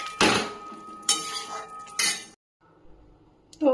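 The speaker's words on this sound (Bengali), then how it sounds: "এবার সামান্য একটু গরম মশলা ছড়িয়ে দিলাম উপর থেকে, দিয়ে এবার একটু নাড়াচাড়া করে নেব।" A spoon scrapes and clanks against a kadai while paneer curry is stirred, three sharp metallic strokes roughly a second apart, followed by a quiet pause and another clank at the end.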